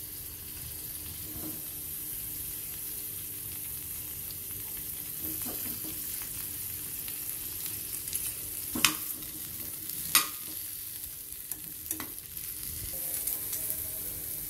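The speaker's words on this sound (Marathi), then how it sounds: "कांदा फ्राय करून घेऊ।" Onion frying in a pan for a spiced potato dish: a steady low sizzle runs throughout, broken by several sharp spoon scrapes and clinks against the pan.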